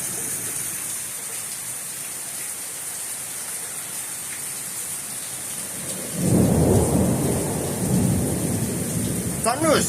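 Steady heavy rain hisses throughout, then a loud, deep rumble of thunder rolls in partway through and keeps grumbling close by to the end.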